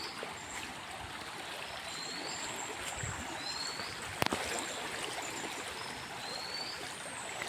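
Water of the Kurdhe river flows past in a steady broadband rush, close and even, with faint bird chirps and one brief sharp knock.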